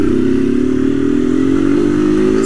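A black Honda Fan 160 motorcycle revs with its air filter removed, giving a loud, close, continuous buzzing engine note that rises slightly and holds steady for a couple of seconds.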